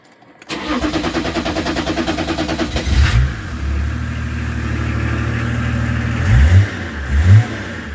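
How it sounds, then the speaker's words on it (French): A BMW 325 TDS diesel, already hot, cranks and catches, then settles into a steady idle with two short throttle blips near the end, recorded up close with no talk. "Si j'accélère un petit peu en démarrant."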